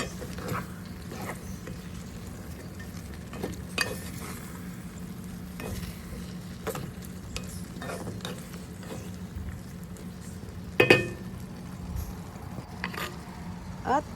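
Carrots, snow peas and watercress stir-fried for squid-ink pancit canton, a soft steady sizzle with intermittent scraping and clacking of a utensil against the pan, close and moderately quiet.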